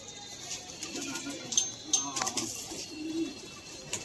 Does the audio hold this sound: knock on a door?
no